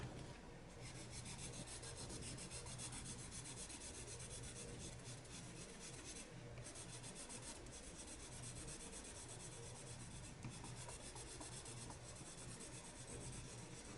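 Colored pencils swatched on paper, a faint continuous dry rubbing and rasping of pencil lead across the sheet, close up and steady with brief stroke accents, no talking.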